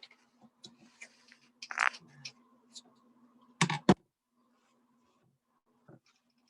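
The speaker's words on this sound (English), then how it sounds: "I'm going to get a pair of scissors to cut the excess." Scissors cut away excess landscape fabric in a garden, giving scattered sharp snips and crunches amid quiet rustling, with a low steady hum underneath and long near-silent pauses.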